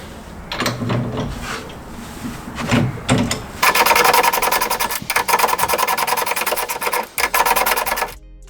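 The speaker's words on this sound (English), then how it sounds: "So as you can see, we're gonna go with a breaker bar on this one." A breaker bar works loose the nuts on a Jeep Wrangler YJ rear track bar, first with scattered rasping and scraping, then a loud, steady ratcheting grind for several seconds with a short break partway through.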